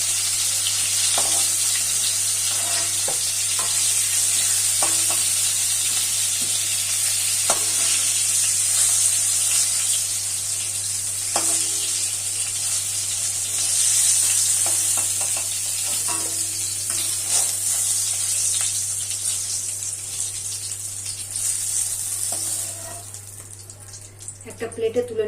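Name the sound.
pointed gourd (potol) frying in oil in a pan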